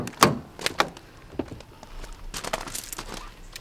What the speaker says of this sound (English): You can just press the button and open the door.